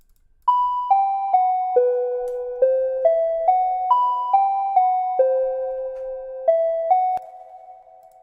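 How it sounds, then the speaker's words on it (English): Pluck synth from the Nexus plugin playing in FL Studio, a clean run of bright, bell-like notes with sharp attacks and short ringing decays, stepping through a melodic pattern for several seconds, with no talk. "And we also have a pluck where we also use Nexus"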